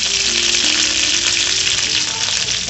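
Curry leaves crackle and sizzle loudly in hot oil, a dense steady frying hiss throughout, close up with no talking.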